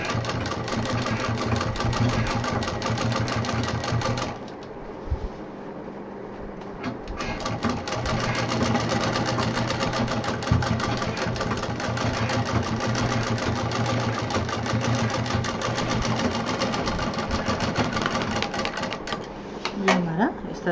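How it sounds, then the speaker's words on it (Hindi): A sewing machine runs steadily, stitching thick foam onto fabric for a large homemade backpack, in one long continuous run with a short pause near the start, rattling loudly beneath a person's talk. "एक बार और मशीन चला देते हैं ताकि ये मजबूती से सिल जाए।"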